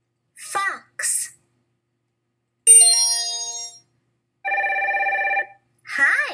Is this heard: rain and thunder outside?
no